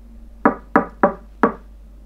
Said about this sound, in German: Er klopft noch einmal.